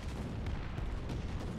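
Artillery fire in War Thunder ground battles, a dull continuous rumble of distant booms and blasts, fairly faint and steady with no clear separate shots and no talk.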